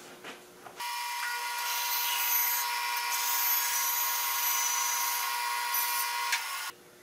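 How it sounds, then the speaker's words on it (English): A band saw cutting a slot through a wooden board, a loud, steady high-pitched whine that starts abruptly, holds for about six seconds and then stops, close and alone. "So let me begin by, first of all, cutting the slot through this board."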